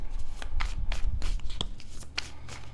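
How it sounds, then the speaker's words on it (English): Tarot cards being shuffled by hand close up, a quick run of soft riffling slaps and card-on-card scrapes in an irregular rhythm, with no talking. "Okay, we're going to shuffle with a little more intention here."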